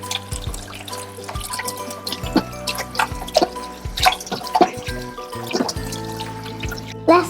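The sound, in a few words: water running while washing hands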